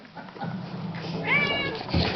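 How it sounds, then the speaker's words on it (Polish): A pet kitten gives a single short, rising meow close by, about a second in, over a faint indoor background. "Mój kochający kotek."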